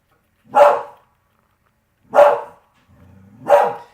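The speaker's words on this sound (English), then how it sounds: "She's the little beagle, but she barks at everything." A beagle barks three times, loud and close, with pauses of over a second between barks and a low whine before the last one.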